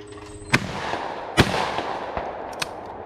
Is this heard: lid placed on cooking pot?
no